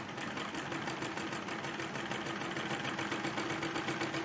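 A sewing machine stitches the lining of a kurti along the neckline with a fast, even mechanical chatter that runs continuously and close up, with no talking.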